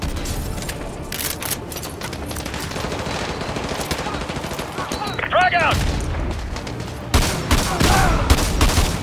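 Rapid automatic gunfire and bursts in a realistic military shooter game on PS5, loud and continuous with booms, while voices shout orders over the shooting.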